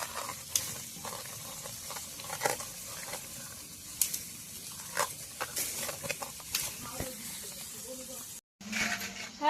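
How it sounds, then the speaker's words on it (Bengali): Chicken meat frying in a pan at an outdoor picnic cooking spot, with a steady sizzle and repeated scraping of stirring strokes, while a person talks throughout. "এগুলো ভাজা করব।"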